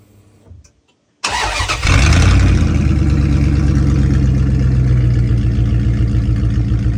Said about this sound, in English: Devon wanted to do a quick listen to what it sounds like with no muffler